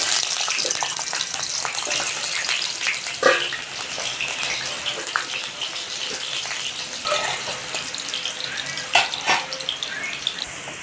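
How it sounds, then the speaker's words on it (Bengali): Potatoes fry in mustard oil, a dense, watery hiss of sizzling that stays close and steady, with a few sharper pops and spatters and no talking. "এর মধ্যে আমি আর একটু সর্ষে তেল দিয়ে দেবো আপনারা চাইলে সাদা তেল দিয়েও করতে পারেন আলুগুলো আমি একটু ভেজে নেবো"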